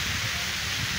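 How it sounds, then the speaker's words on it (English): Steady rain hisses down on a Ghana building site during rebar installation for a concrete deck, a continuous loud wash with no pauses. "Because of raining, we are going down."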